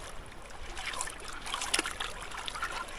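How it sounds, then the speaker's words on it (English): Running water washes over a rock during gold panning in a stream, a steady broad splashing wash that stays close and fairly loud throughout, with no talking. "Water just washes it all off that rock."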